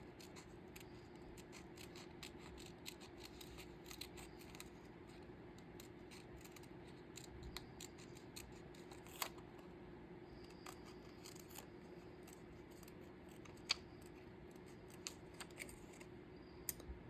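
Scissors snip away excess paper around a cut-out in a long run of faint, irregular crisp snips and small scrapes. The sound is close but very quiet against a low steady hum.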